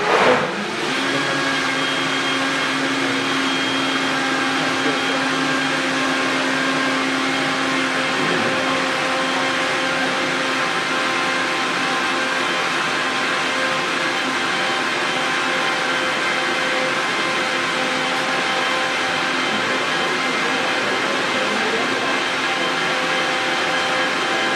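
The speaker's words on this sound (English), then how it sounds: "Blend it again. You can just stop it." A kitchen blender whirs steadily while blending oats during a bread and breakfast cooking class, a loud continuous motor drone with constant pitch that runs unbroken for over twenty seconds, with no talk.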